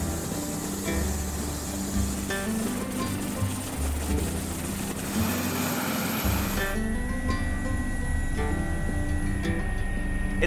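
A helicopter flying in Iba, Zambales, Philippines, its engine and rotor droning loudly and steadily throughout with no one speaking.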